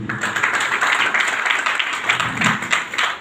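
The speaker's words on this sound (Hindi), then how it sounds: "अपनी अपनी माँ के लिए ताली बजाइए।" Audience applause at a Netaji Subhas Chandra Bose Parakram Diwas event, a sustained wash of clapping from a crowd lasting about three seconds, fairly loud and even with scattered sharper claps.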